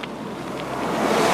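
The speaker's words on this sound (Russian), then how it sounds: "Завывает дикий ветер." Wild, howling wind rushes past while cycling, a steady broadband roar that swells louder over a moment and buffets the microphone.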